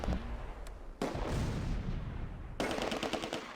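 Gunfire rattles through a WWII battle in Close Combat A Bridge Too Far, with loud bursts of machine-gun fire and heavy shots cutting in abruptly, separated by brief drops in intensity, dense and close.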